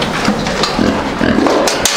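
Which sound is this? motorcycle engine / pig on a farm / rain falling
pig on a farm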